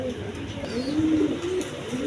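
Pigeons coo nearby in one drawn-out, throaty rolling call that swells and fades over a low, continuous background murmur, fairly loud and clear.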